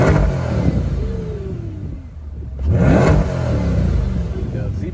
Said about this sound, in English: this is my first time actually revving up my engine on each mode.